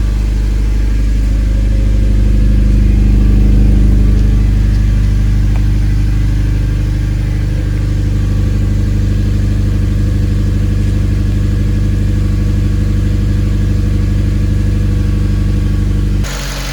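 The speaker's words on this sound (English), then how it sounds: "today I am going to be turning over the FD for a little bit" A Mazda FD rotary-engine car, recently converted, runs loud and close with a deep, steady engine drone that swells early as it revs and then settles into a rough, even idle before cutting off abruptly, with no talk.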